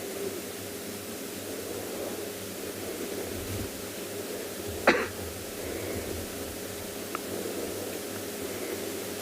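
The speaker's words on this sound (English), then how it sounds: "It was a cough, okay." A single short cough rises sharply out of a steady low background hiss on a South African safari, with a fainter small click a couple of seconds later.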